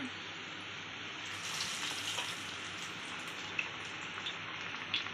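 Chopped onions frying in oil in a pan for Tamil-style vada curry, a steady close sizzling hiss with faint crackles throughout, no voices.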